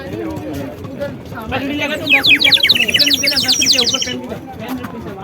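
A ten-rupee toy sparrow whistle produces a rapid run of high, warbling chirps mimicking a small bird, loud and close, sounding over people talking.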